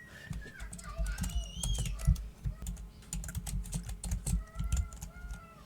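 Rapid typing on a computer keyboard, a close and steady patter of key clicks running throughout, with birds chirping faintly in the background and no speech.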